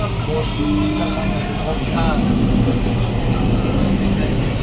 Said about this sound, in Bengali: This train is bound for Uttara North.